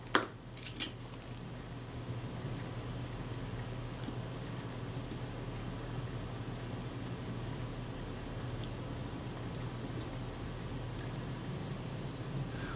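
Small metal screws clink and rattle as they are picked out of a tray during a Kodak Retina IIIC camera repair: a few quick, close taps at the start, then quiet handling over a steady low hum.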